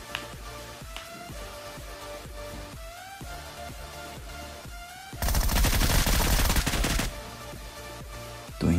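Bursts of Groza assault rifle fire ring out during a PUBG fight, with several short volleys over a droning background followed by a loud, sustained barrage of rapid shots near the end.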